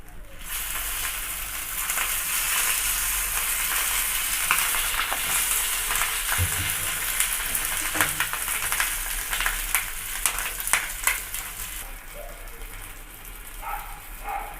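Fish on a banana leaf fries in a little oil on a tawa, a constant broad sizzle with scattered sharp crackles and pops that grow busier toward the end, close by.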